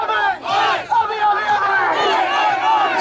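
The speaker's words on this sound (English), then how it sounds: "a crowd marching for as far as the eye can see of Victorians that are outraged" Lockdown protesters in Victoria marching en masse, a loud, dense crowd shouting and chanting without pause, voices swelling and overlapping close by.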